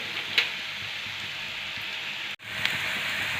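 Garlic and coconut paste frying in oil for a village-style cowpea curry, a steady close sizzle with faint stirring, briefly cut off before resuming.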